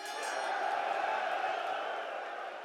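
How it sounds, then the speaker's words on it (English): A live arena crowd at a women's mixed martial arts bout reacts to a fighter announcement, a steady, dense roar of cheers and jeers mixed together, sustained and fairly loud, with no single voice standing out. "Mixed reaction from the crowd here at the announcement of Fallon Fox."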